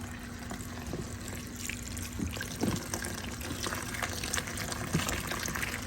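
Water pouring and trickling into peat moss bedding for red wiglers, a steady gushing splash with a few soft wet thuds, close and continuous.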